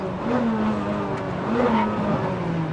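A Ferrari 430 Scuderia race car engine note drops in pitch as it brakes hard into turn 1, with a brief rise before falling again, heard steadily from inside the car.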